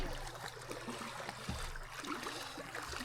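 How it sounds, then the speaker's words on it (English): Steady wash of river current on the Missouri River, a continuous low gurgling flow with faint trickles, heard close at a quiet level with no talking. "That current's flowing"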